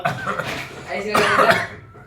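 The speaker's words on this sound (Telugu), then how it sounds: "దగ్గుతున్నారు." A few rough coughs sound close up, mixed with throat-clearing and voices speaking over them.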